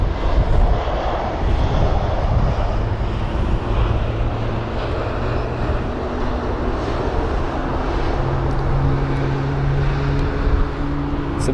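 An Air India airliner taxiing at London Heathrow on a windy day gives a steady, continuous jet engine roar with a low droning hum, loud and unbroken throughout with no voices.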